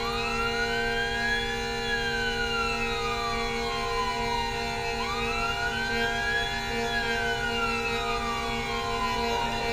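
Wailing vehicle siren from the online game APB, rising and falling in long sweeps that repeat steadily and stay loud and close throughout, with a steady tonal hum underneath and no talking.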